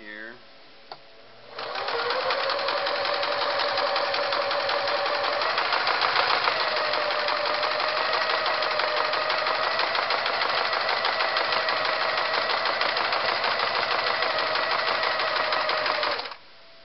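A Singer Model 353 Genie sewing machine stitching a fine satin stitch, its motor whirring steadily and close for over ten seconds after a brief start, with the needle's rapid mechanical chatter and a few faint spoken words before it begins.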